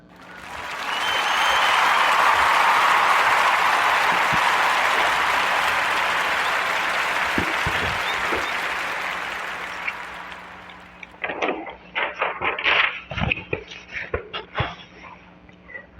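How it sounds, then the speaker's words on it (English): A warm round of applause for a guest on a podcast, loud and dense for several seconds, then thinning into scattered last claps as it fades. "round of applause for Mr. Williams and the CEO of Financial Literacy Academy"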